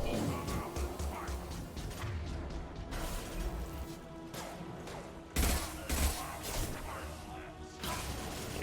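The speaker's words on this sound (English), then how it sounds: "Fucking rocket launchers, dude." Rapid bursts of rocket-launcher fire and explosive crashes in a Mass Effect 2 firefight, dense and loud throughout, with heavier blasts around the middle and other gunfire mixed in.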